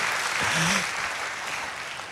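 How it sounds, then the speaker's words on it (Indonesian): A church congregation applauding during a sermon, a dense, moderately loud wash of clapping that holds steady and then eases slightly, with a brief voice underneath. "Tepuk tangannya bisa lebih dahsyat dari ini"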